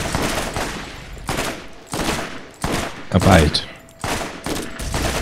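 Rifle fire in the shooter game Borderlands, a series of sharp repeated bursts of shots with brief gaps between them, loud and close, with people talking in between.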